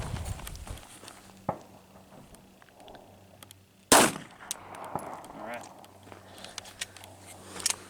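A Winchester round with a hotter powder load is fired at fiberglass armor, giving one sharp, loud, close report midway through, with a few faint clicks and knocks before and after in quiet outdoor surroundings.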